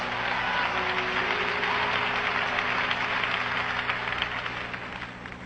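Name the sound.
congregation clapping hands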